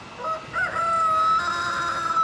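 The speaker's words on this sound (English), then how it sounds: "as the rooster crows." A rooster crows once, clear and fairly close, a long drawn-out call that holds steady before trailing off, with no talking.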